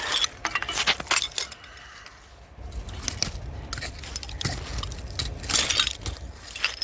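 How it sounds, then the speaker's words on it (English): Heavy glass pieces clink and scrape in dirt and sand while digging for old bottles in a dump, with repeated close, bright chinks and gritty scraping throughout. "No, it's a piece of heavy glass, so it's not even a bottle."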